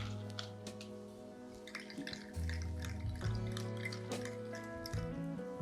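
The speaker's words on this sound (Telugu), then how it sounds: "దీంట్లో కొంచెం సోడా వేసుకుంటున్నాను." Soda is poured into a pina colada made with pineapple, giving a faint trickling, dripping splash beneath steady sustained tones.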